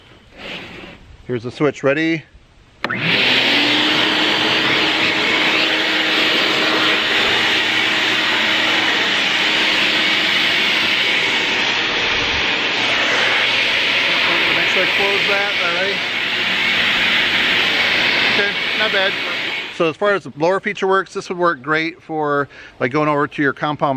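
A RIDGID Pro Pac 5.0 HP wet/dry shop vac runs as a blower, giving a loud steady rushing whoosh for about seventeen seconds that starts abruptly and cuts off, with brief talk before and after.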